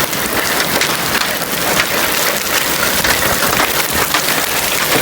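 Large hailstones pelt down in a dense, continuous clatter, loud and close, a steady hissing patter with no pauses or voices.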